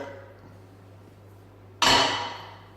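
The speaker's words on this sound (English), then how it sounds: "Let's scrape the pan, don't forget any of that lovely sauce." A single sharp scrape of a utensil against a pan as cheese sauce for mac and cheese is cleared out, a brief bright rasp after a quiet stretch of low kitchen hum.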